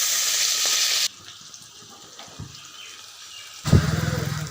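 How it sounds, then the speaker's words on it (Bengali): River fish sizzling as it fries in hot oil: a loud, steady hiss for about a second drops to a softer crackle, then a sudden louder rumbling burst near the end. No one speaks. "এরপরে মাছগুলি তেল দিয়ে ভাজবো।"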